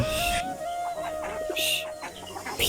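Several chickens cluck nearby in a busy overlapping flurry of short calls, with a steady hum in the background.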